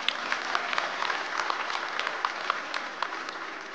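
Applause from an audience at a fashion event, many hands clapping steadily with a few sharper claps standing out, heard at moderate distance and fairly even throughout.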